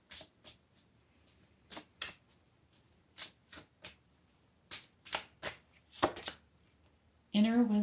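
Goddess oracle cards shuffled and drawn from a deck at a pick-a-card reading, a run of short crisp flicks and riffles with a longer swishing rustle near the end.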